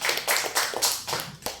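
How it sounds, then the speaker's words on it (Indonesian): Clapping hands from an audience at a teacher mentoring session, a few bursts of claps rising and falling over under two seconds, fairly close and without speech. "tepuk tangan untuk kita semua"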